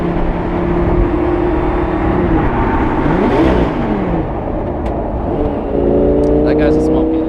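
A first-generation Audi R8 carries its occupants along smoothly, its steady engine drone and hum rising and shifting with speed, loud and continuous, with people talking over it inside the car.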